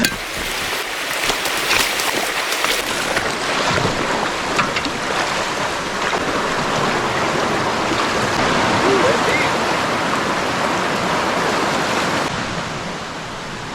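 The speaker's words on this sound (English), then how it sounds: "Yeah, it's raining." Rain pours beside a stream on a wet prospecting hike, a loud, steady broadband hiss of falling water and rushing current that fills the whole stretch without pause.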